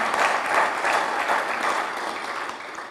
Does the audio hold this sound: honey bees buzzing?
no